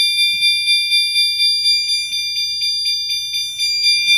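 A fire alarm system sounds during a power loss, repeating a loud, high electronic chirp in a fast, even pulse, about two beats per second, with no voices over it.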